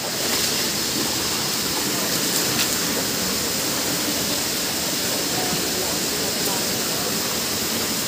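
Arapay Falls pours with a strong rushing current, producing a dense, loud, continuous roar of water that is heard close up and stays unbroken throughout.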